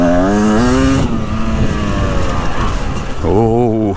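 A 2024 Beta 300 Race Edition two-stroke dirt bike engine runs close and loud, its buzzing tone rising with revs, dipping briefly and then climbing again, with someone talking over it.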